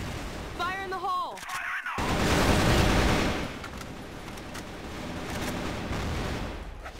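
A grenade goes off in the shooter game CrossFire, a loud broad blast with rolling noise that follows a brief game voice line and a sharp cut, the rumble of battle carrying on to the end.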